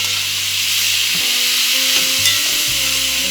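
Ackee and saltfish are stirred in a frying pan, giving a loud, steady sizzle with a few scraping spoon strokes against the pan, heard up close without talk.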